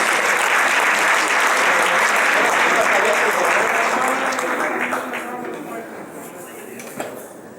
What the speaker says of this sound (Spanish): Un fuerte aplauso para Mario Antonio Ramírez Barajas.